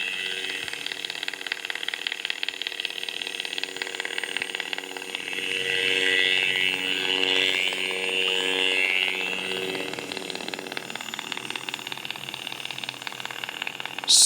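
A SKOLL lightsaber hilt fitted with a Goth3Designs Master Chassis powers up, giving a steady electronic hum with layered tones that swells midway and then settles, loud and close, with no voices.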